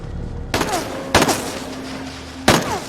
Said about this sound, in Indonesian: Bob Lee mencoba menyelamatkan diri dengan beberapa tembakan